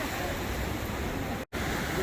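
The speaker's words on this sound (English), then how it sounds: "you can see the water rushing down the river and into the bay" The Rio Cuale rushes down to the bay after a storm, a loud, steady broadband roar of flowing water with one brief dropout.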